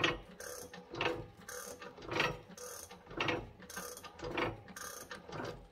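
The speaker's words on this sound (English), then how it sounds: "Peter is now turning the engine over" A Meteor Centurion tank engine turned over slowly by hand during magneto and camshaft timing, giving repeated mechanical clicking and ratcheting in a steady rhythm of about one cycle per second, close and moderately loud.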